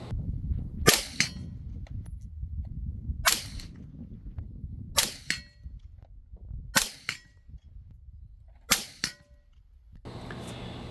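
Suppressed rifle firing 55 grain rounds through a Dead Air Sandman S suppressor, five sharp cracks spaced about two seconds apart, each with a short metallic ring and outdoor decay, no talking.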